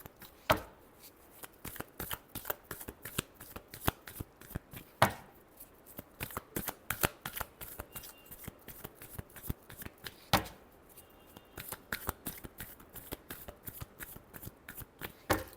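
A deck of tarot cards shuffled over and over in a steady, crisp riffling patter, with sharper slaps now and then, close and alone with no voice.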